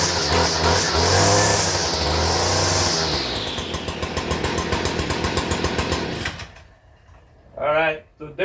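A Stihl weed eater's small two-stroke engine fires on a single pull and runs loud and buzzy for about six seconds, then cuts off, followed by a short burst of rough restart noise.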